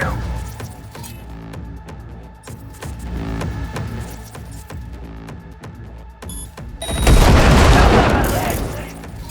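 Gunfire in the video game Cyberpunk 2077, with evenly spaced sharp shots for several seconds followed by a loud roaring burst near the end, close and prominent.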